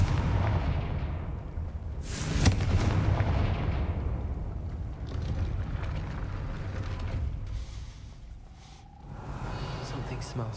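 A Confringo fire spell from Hogwarts Legacy bursts with a loud booming blast, ringing out over a steady rumbling game backdrop, followed by a fainter second burst near the end.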